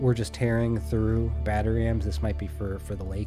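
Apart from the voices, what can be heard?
None of the usual background noises is heard.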